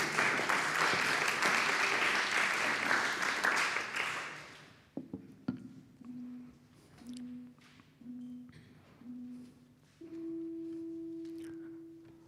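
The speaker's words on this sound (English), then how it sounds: "Applause, please." Audience applause at a science-communication competition final, broad dense clapping for about four seconds that then dies away into quiet, followed by a few isolated thuds and steady electronic tones.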